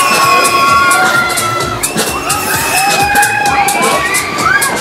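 A festival crowd at the Foire Saint Martin in Perpignan shouts, whoops and cheers loudly and continuously during a shaker dance ride. Dense, close crowd noise with high screams, plus a few short sweeping tones layered through it.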